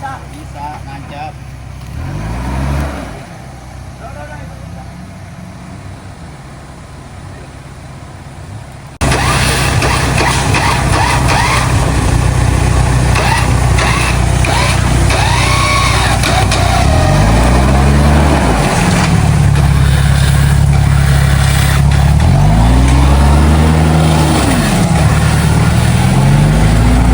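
A Suzuki Vitara on an off-road track at KAGAMA Jatiluhur Explore revs hard, its engine rising and falling in repeated loud surges close by, with people talking over the roar.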